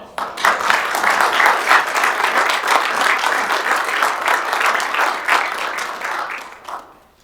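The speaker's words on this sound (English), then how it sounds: "Another round of applause." A round of applause from the audience at a county commission meeting, a sustained burst of clapping that holds steady for several seconds and then tapers off near the end.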